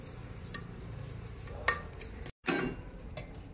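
Ghee made from butter and refined oil is stirred in a pan, giving quiet scraping and light metallic clinks with one sharper tap midway and a brief drop to silence, in a home kitchen making chicken biryani.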